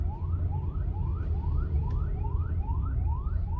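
An ambulance siren wails in a busy street, its rising sweeps repeating steadily and loud over a low rumble of traffic and crowd noise.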